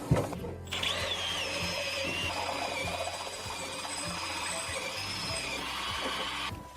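A power drill bores holes in the metal body plate of a 2019 Peugeot Partner van, one steady whining run of several seconds after a short start, close and fairly loud.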